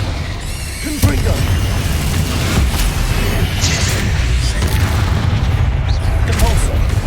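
In the video game Hogwarts Legacy, a Confringo spell goes off in a loud, booming explosion, with further thuds and blasts of combat continuing under faint background activity.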